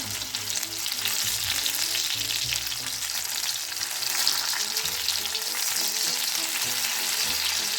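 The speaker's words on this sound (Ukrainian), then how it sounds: "Коли бачимо, що нагетси розсмажилися, їх потрібно перевернути на інший бік." Steady crackling sizzle of battered chicken nuggets frying in hot oil, close and continuous, with no talking.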